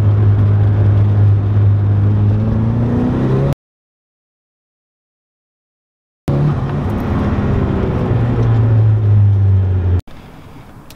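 A Miata engine with an EFR turbo runs loud and close with a steady whirring drone that rises in pitch. It cuts to total silence for a few seconds, then the whirr returns and ends abruptly.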